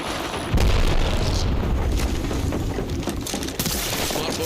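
An arc star grenade detonates in Apex Legends with a loud, sudden boom and sustained crackling burst that rolls on for several seconds amid other game noise.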